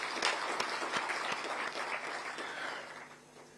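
Audience at a strategic plan launch for Kenya's Ministry of Environment, Climate Change and Forestry claps in a brief round of applause, moderately loud, then fades out.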